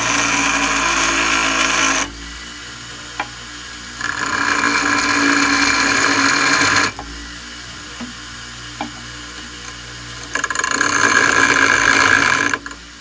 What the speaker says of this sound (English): we're just gonna grind that off just a little bit so this pad will glide back and forth smoothly